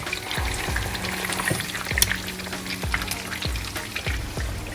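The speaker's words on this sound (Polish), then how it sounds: "Smażymy." Eggs fry in hot fat in a pan alongside turkey schnitzel, giving a close, steady sizzle broken by frequent sharp pops and crackles.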